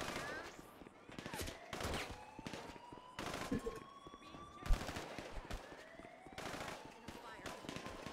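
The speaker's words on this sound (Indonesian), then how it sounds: "Aku ditembak gila." Gunfire rains down on a player in GTA Online: rapid bursts and fusillades of shots in a busy game scene, with a siren wailing in the background and faint talking in places.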